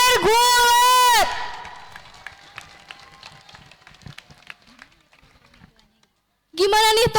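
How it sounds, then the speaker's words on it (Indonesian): Scattered applause and light crowd noise for a school wrestling club performance, clapping thinning out between two loud bursts of amplified voice from a host. "Berikan tepuk tangan untuk ekstrakurikuler Gulat."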